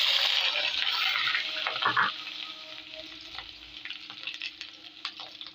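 Onions sizzle and crackle as they fry in ghee, a steady bright hiss with a burst of stirring around two seconds, then settling into a softer, even sizzle with small pops.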